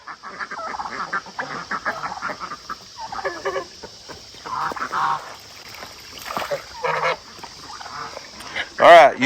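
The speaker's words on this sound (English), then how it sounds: "All right, you three geese" Three geese honk near a water trough on a farm, their calls scattered and irregular among splashing and ducks, with a louder honk near the end; a person talks over much of it.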